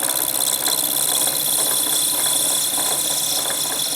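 A metal lathe runs steadily while taking a facing cut on the end of a pencil blank, giving a continuous whirring, slightly rattling motor drone with a bright high whine, even and close throughout.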